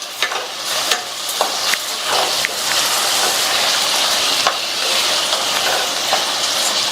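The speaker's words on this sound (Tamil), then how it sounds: "தக்காளி வதங்குறதுக்காக இது கூட கொஞ்சமா கல் உப்பு சேர்த்து வதக்கிக்கலாம்" Chopped tomatoes with a little rock salt sauté in a hot pan, giving a loud, steady close-up sizzle broken by occasional scrapes and taps of a stirring spoon.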